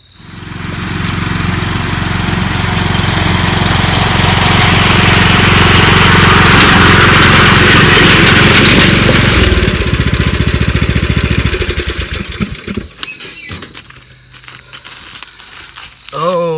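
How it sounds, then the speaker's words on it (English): A riding lawn mower engine running loud and close, a steady droning roar that holds for about ten seconds before winding down and cutting out, followed by quieter rustling. "it's the infamous riding lawnmower of videos past"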